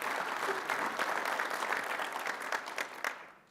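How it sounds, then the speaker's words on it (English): An audience breaks into applause during a ministerial speech, steady, close clapping from many hands that holds for a few seconds before fading out. "The initiation of that applause came from Minister George Peary"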